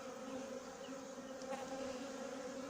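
Honeybees buzzing in a steady, dense drone at close range as a swarm is settled into a hive, with no talk.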